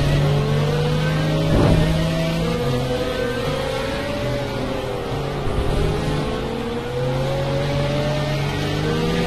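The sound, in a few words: Pagani Zonda engines in a racing video game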